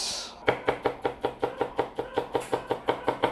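Sharp new knife chopping onion into small pieces on a board, about fifteen crisp, evenly spaced cuts in a steady quick rhythm, close and clear with no talk.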